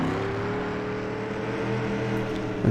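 A race car engine in the iRacing simulator holds a steady, loud droning whine as it laps the track, with a slight swell near the end and no talking.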